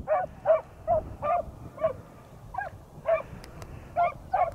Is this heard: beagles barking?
yes